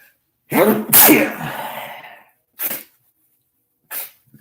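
A single loud, close sneeze in a quiet room, a sharp double-burst lasting about a second, followed by a couple of brief quieter sniffs or breaths; no talking.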